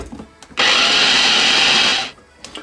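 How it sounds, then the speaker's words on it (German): A small food chopper purees raspberries with powdered sugar, its motor starting abruptly into a loud, steady high whir that runs for about a second and a half before cutting off, with faint handling clicks around it. "gebe jetzt den Puderzucker dazu. Dann den Deckel drauf und pürieren."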